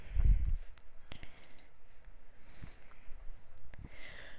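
Computer mouse clicks while a flight route planner is used, a few sharp, quiet, isolated clicks spaced over several seconds against a soft background, with no talking.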